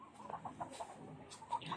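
Chickens cluck softly in a quick, uneven series of short calls at close range, outdoors in Bicol.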